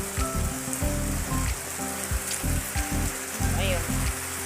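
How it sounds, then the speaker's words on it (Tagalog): Steady rain falls on a rural farm area in Zamboanga, a dense continuous wash with wind, while low voices murmur underneath throughout. "Galing doon ang ulan at hangin."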